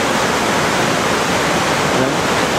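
A creek in Alaska flows downstream of a salmon hatchery, producing a loud, steady, broadband rush of water that fills the whole stretch without pause.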